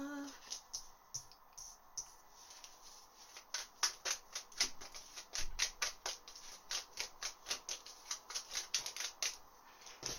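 Tarot cards are shuffled by hand in a quiet room, a run of crisp riffling bursts and soft slaps repeating irregularly, close but fairly faint.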